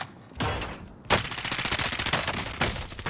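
Gunfire in a Rebirth Island shooter video game: a single shot, then a sustained burst of rapid automatic fire, fairly faint and without talk.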